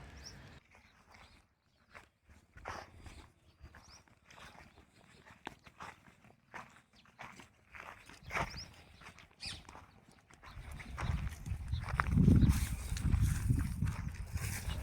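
Two mares, one red, stand in a village farm enclosure. Scattered hoof clops and shuffling steps sound at close range, with a fuller rumbling stretch near the end and faint voices in the background.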